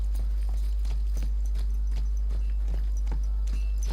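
Steady clip-clop of horse hooves at a walking pace over a constant low hum, evenly spaced and clear, from the video game Kingdom Come: Deliverance 2.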